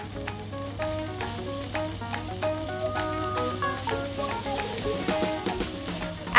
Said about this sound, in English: Stir fry them all till it's all covered by the red curry paste.